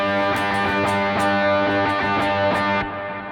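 Electric guitar chord voicing strummed with clean string muting, several bright rhythmic strums ringing with sustained harmonics before the sound cuts short near the end; no voices.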